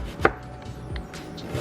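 A knife chops through an onion for a mustard and turnip greens recipe, a sharp close cut followed by a few softer taps on the board, with no talking.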